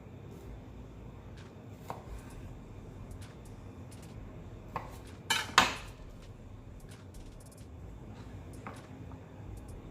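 A knife slices cabbage into thin strips on a board for Jamaican fried cabbage, giving quiet, sparse cutting taps with a brief louder cluster of strokes midway.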